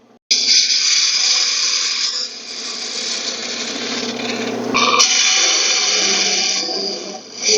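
A wood lathe roughs a goblet blank down to a cylinder, giving a steady, loud, close whirring scrape of the tool on spinning wood that dips briefly midway and then resumes.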